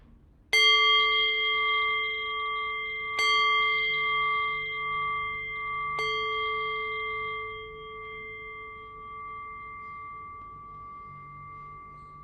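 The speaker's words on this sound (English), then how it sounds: "I'll cue that by ringing the bell 3 times." A meditation bell struck three times at even intervals of a few seconds, each clear ringing tone lingering and slowly fading into quiet.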